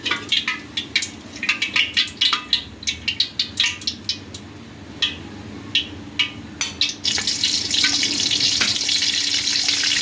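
Sliced onions fry in oil until browned, close and loud, with rapid spattering pops and stirring scrapes that give way to a dense, steady sizzle near the end.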